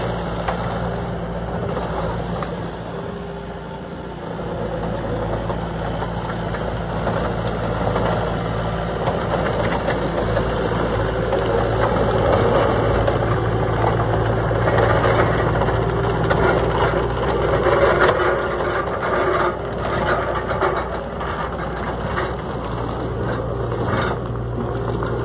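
Diesel engine of a 2008 Bobcat T320 compact track loader idling steadily outdoors in the cold, a continuous low rumble with slight knocking texture, close and even throughout with no talk.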